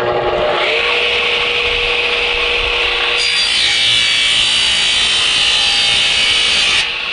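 A power saw rips through a wooden bookshelf side board as it is cut to length, a loud sustained whirring cut with the tone rising partway through, then stopping near the end.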